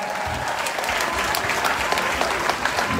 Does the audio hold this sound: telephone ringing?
no